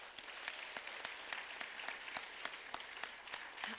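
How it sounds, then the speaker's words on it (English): A conference audience gives a round of applause for HBCU innovators, a steady, full wash of clapping with a few sharper claps standing out, heard from a distance. "let's give all of our HBCU innovators another round of applause"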